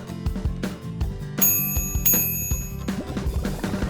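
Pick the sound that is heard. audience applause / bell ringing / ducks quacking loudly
bell ringing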